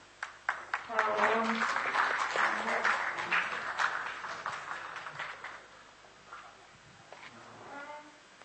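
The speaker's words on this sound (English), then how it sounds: "We would appreciate if you kept the applause going" Audience applause at a ceremonial lamp-lighting event, a sustained patter of clapping that swells early, then thins and fades, with voices and crowd noise mixed in beneath it.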